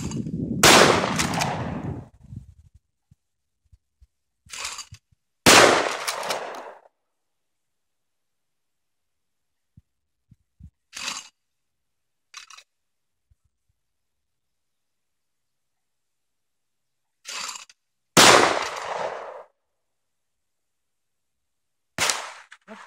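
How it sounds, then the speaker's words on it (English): Target shooting with an unfamiliar gun outdoors: sharp, loud single gunshots spaced several seconds apart, some with a short echoing tail, separated by near silence. "That's pretty good shooting, actually."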